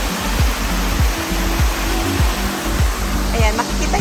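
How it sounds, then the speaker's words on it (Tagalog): Water from a waterfall in a hidden nature spot in Cebu City pours down in a steady, broad rush, with a voice speaking over it in bursts throughout. "banda roon is makikita niyo yung pagbagsak ng tubig mula sa falls"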